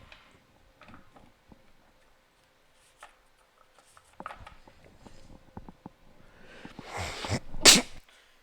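After scattered quiet ticks and small taps, a single loud sneeze bursts out near the end, sharp and close after a short stifled buildup.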